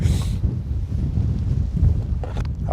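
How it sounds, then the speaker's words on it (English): Gusty wind at the bank of Llyn Clywedog while fly fishing buffets the microphone in an uneven, rumbling roar, with a brief brighter hiss at the start and no talking. "Oh, it's a bit windy today."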